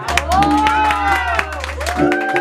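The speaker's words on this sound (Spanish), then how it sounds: "será que el mariachi se merece un aplauso." Crowd at a mariachi birthday celebration applauding and cheering for the mariachi band, claps and whoops mixed under sustained held musical or vocal tones, loud and close, with voices present.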